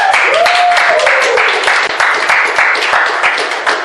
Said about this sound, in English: please give yourself a big round of applause for being here